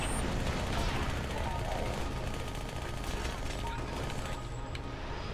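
Rapid SMG gunfire in the video game Halo: Spartan Assault, with dense bursts of shots crackling steadily through the whole stretch. The shots are fairly quiet and mixed with other game action.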